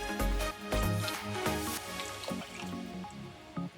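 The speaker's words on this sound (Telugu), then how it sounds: "ఈ గ్లాస్తో నేను 1/2 గ్లాస్ వాటర్ని యాడ్ చేస్తున్నాను" Half a glass of water poured into a pan of mushroom curry, giving a wet, sloshing splash and drip that carries on steadily for several seconds, close and moderately loud, with no talking.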